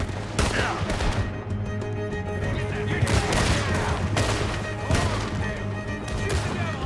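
A gunfire shootout in Red Dead Redemption 2: dense, rapid volleys of rifle and pistol shots, loud and continuous, with heavy impacts throughout and voices shouting underneath.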